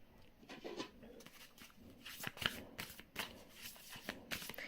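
A deck of tarot cards is shuffled close by in quiet, with repeated soft riffling and flicking bursts spread irregularly through a few seconds.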